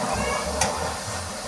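Mixed vegetables, carrot among them, fry in a pan for fried rice, making a steady soft sizzling hiss with one brief brighter crackle partway through.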